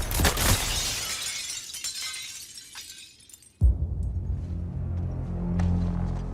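Glass shatters in the Suicide Squad: Kill the Justice League video game, a loud crashing burst that decays into tinkling debris, then a sharp thud followed by a rumbling low tail.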